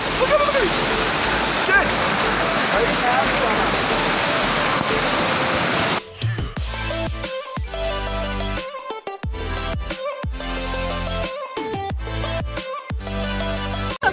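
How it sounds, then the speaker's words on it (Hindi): Heavy hail pounds down outdoors in the Ushu forest near Kalam in Swat Valley, a dense, loud, unbroken hiss for about six seconds before music cuts in and takes over. "ये तो ओले पड़ रहे हैं फुल"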